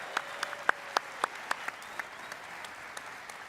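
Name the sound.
applause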